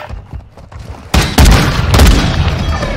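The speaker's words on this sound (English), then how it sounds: "Grenade only blew up one of them." A grenade explodes in a Call of Duty match, a sudden loud close blast after quieter moments, followed by a rumbling tail and scattered crackling gunfire.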